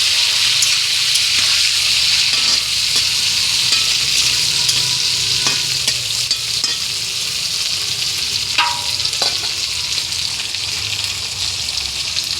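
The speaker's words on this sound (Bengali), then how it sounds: "একই সঙ্গে ভেজে নেবো" Drumstick stalks and potatoes sizzle in mustard oil in a kadai while a spoon stirs them, adding scraping strokes and a few sharp clinks over a loud, continuous frying hiss, with no talking.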